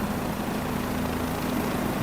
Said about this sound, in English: I think this helicopter's a lot louder.